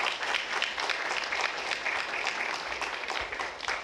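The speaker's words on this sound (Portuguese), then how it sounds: "Por favor, de pé para que a gente aplauda vocês." Audience applause in a legislative chamber, with many people clapping in a loud, continuous burst that holds steady the whole time.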